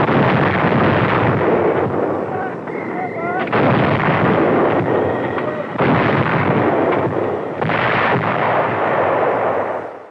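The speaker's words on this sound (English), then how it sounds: "The guns fire at extreme elevation, so shells will drop into Jap positions in narrow gullies." Marine howitzers on Guadalcanal fire artillery at extreme elevation in 1943 wartime newsreel footage, four loud booming reports roughly every two seconds, each with a long rumbling tail, under an old, noisy film soundtrack.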